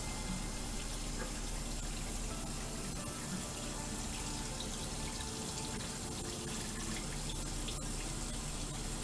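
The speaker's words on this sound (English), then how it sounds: "So here we are at the sink. Let's go ahead and give this a rinse and see what we have." Tap water running into a sink while a brass 105 mm M14 howitzer casing is rinsed, a loud continuous close rush of splashing water throughout.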